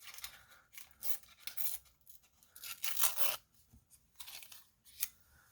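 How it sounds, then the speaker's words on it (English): Paper being torn close up, a series of crisp ripping and crunching strokes in irregular bursts over a quiet background. "I'm going to just tear the bottom."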